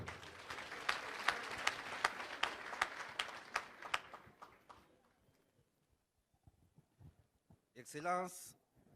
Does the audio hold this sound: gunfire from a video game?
no